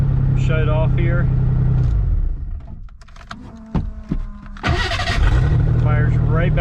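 A Ford Bronco II engine runs, then shuts off, leaving quieter clicks and knocks, before it cranks and fires back up into a loud, close idle.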